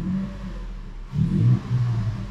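A Toyota FJ Cruiser engine fitted with a racing air filter idles with a low, steady rumble. It then revs up briefly and settles back to a throaty hum, close and alone.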